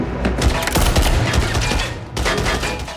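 Rapid bursts of gunfire from arm-mounted weapons in a film action scene, dense, loud and close, breaking off briefly before another volley.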